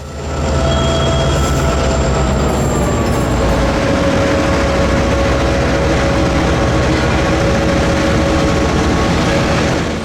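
A CSX freight train rumbles past loudly and steadily through Plymouth, its wheels grinding with a faint high squeal throughout.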